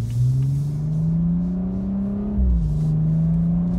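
A BMW M235i xDrive engine pulling under load while driving, a loud steady drone that climbs in pitch, dips briefly at a shift, then settles and pulls again.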